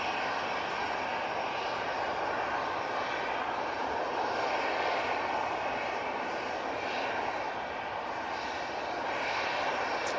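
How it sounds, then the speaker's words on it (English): A steady, loud roar from an aircraft engine near Manchester Airport holds without a break, a broad rushing drone with faint whine on top and no talking. "All I can see in flight radar is a million planes coming out towards me."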